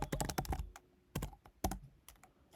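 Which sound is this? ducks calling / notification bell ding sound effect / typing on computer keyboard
typing on computer keyboard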